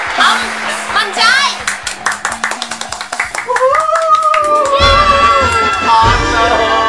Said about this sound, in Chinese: 我哋掌声欢迎